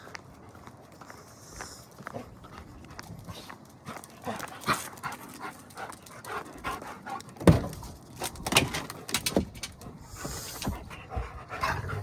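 Excited dogs pant rapidly and repeatedly up close before a camping trip, mixed with footsteps and shuffling, loud bursts of breath rising and falling.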